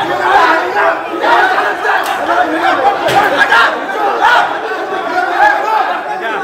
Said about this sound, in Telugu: కొట్టుకుందాం రా అంటూ అరుపులు కేకలు రీసౌండ్ల ధ్వనించాయి